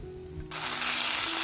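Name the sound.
bratwursts sizzling on the grill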